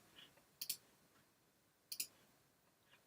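Two sharp computer mouse clicks, each a quick double tap, land roughly a second apart in a quiet room, with a fainter click near the end.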